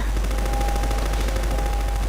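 Rapid automatic gunfire in the video game Half-Life 2: Episode 2: loud, continuous bursts of shots with a faint steady tone running underneath.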